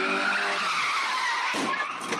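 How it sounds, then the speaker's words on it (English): A Honda Civic EG6 squeals its tires in a steady, shrill skid lasting about two seconds, with rougher scuffing noise near the end. "Maybe induce a little bit of understeer and do some mad Civic skids"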